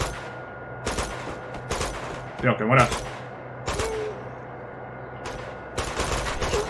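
Bursts of gunfire in the video game Uncharted 2, a handful of short rapid volleys spread across the clip, moderately loud, with a voice speaking briefly in between.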